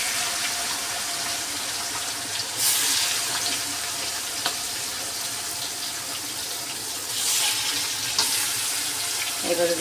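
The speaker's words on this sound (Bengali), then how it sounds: "অল্প অল্প করে মাংসগুলোকে ভেজে নেব আমি" Pieces of meat fry in oil in a wok for biryani, a steady bright sizzle with a couple of louder surges as pieces are stirred or added, with no talking.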